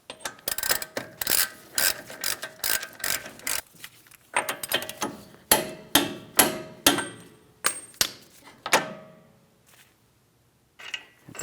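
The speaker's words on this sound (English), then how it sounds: "we're going to bottom this out against the first mounting nut" A ratchet on the outer hub mounting nut of a 2007-2014 Ford Edge rear wheel bearing assembly clicks in quick repeated strokes, with sharp metallic clanks between pulls, close and clear.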